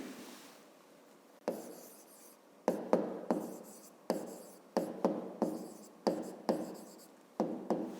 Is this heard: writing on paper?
yes